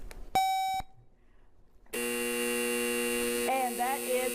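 A quiz show buzzer at a high school Knowledge Bowl ends a segment. A short electronic beep sounds first, then a long sustained buzzing tone comes in after a pause, with a voice briefly overlapping at the end.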